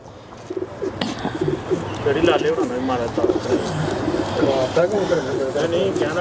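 Pigeons cooing repeatedly in soft, throaty, rolling calls, close by, with someone talking over them and light background noise.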